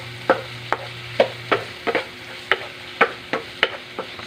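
A pan of food with shrimp paste and squash is stirred, a regular series of about ten crisp scraping taps from a utensil over a faint background sizzle.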